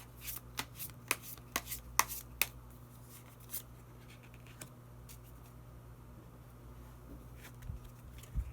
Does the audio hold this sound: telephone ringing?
no